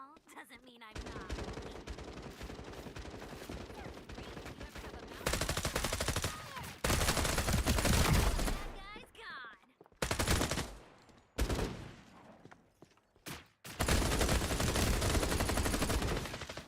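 Turrets mounted on a wall in Fallout 76 fire long loud bursts of rapid automatic gunfire, broken by short pauses and single shots, with a voice talking faintly beneath.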